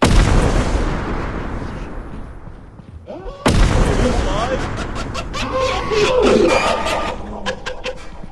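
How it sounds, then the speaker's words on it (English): A bomb explodes in the video game Content Warning with a sharp, loud blast that cuts in suddenly and rumbles on, after an earlier booming roar; excited players talk and shout around it. "Oh, there's a bomb! There's a bomb! Get out of there!"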